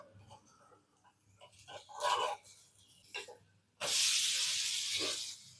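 Bottle gourd adai dosa frying in sesame oil on a hot pan, with a few short sizzling spurts followed by a loud, steady hiss that holds for about two seconds before fading.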